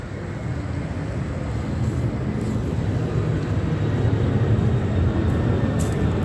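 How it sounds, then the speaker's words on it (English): A plane flies right over a museum at night, producing a steady broad roar that slowly swells in loudness and holds throughout without any voices. "2:10 a.m. is another plane."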